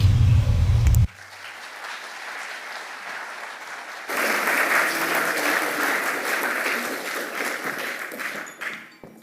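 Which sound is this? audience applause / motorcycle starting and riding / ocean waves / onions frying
audience applause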